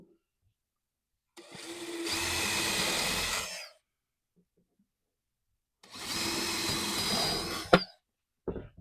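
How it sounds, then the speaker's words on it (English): A power drill bores holes in wood twice, each burst lasting about two seconds with a rising whine as it bores in, separated by silence, followed by brief knocks. "And drill me 2 holes just like that."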